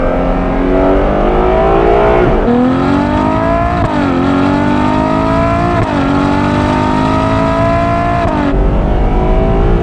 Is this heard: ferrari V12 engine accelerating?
yes